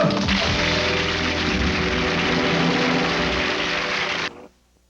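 An airplane flies over the California desert, a loud, steady broadband roar that holds for about four seconds and then cuts off abruptly into near silence.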